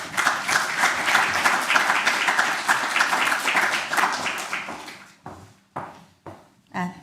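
An audience applauds visiting fellow Sarah as she is welcomed to the stage at a business lecture. A dense burst of clapping lasts about five seconds, then fades into a few scattered claps and thumps.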